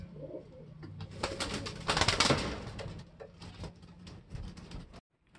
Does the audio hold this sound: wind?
no